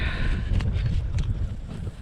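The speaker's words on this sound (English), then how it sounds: "It's windy up there." Winter wind gusts on a ranch buffet the microphone in low rumbling blasts, with a faint whooshing rush over the top and no voices.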